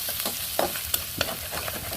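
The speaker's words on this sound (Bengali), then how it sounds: "এগুলো তো নেড়ে ছেড়ে ভাজি করে নেব" Tomato, green chili and ginger-garlic paste stir-fried in a pan, sizzling steadily while a utensil scrapes and clinks in several quick strokes, close and alone.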